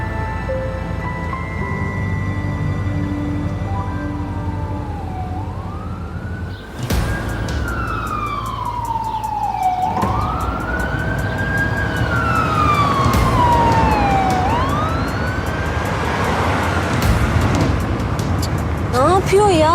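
A wailing ambulance siren sweeps up and down repeatedly, loud and close, with traffic noise and a sharp honk; people talk over it.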